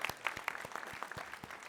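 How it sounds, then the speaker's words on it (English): Sparse, scattered handclaps from a small audience at a Tacoma city awards ceremony, faint and irregular, with a few claps standing out over a quiet room. "You can clap for the city"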